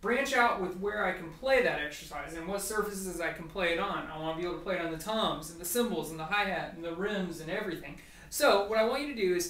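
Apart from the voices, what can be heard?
No everyday noises stand out.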